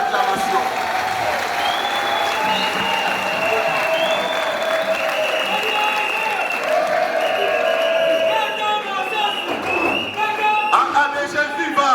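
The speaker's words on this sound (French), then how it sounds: "Je demande aux cadres et aux militants de partis membres de AABG de lui témoigner notre gratitude par nos acclamations." Party cadres and militants of a political coalition applaud and cheer at an official ceremony, a steady dense wash of clapping lasting throughout, with voices and tonal sounds layered over it.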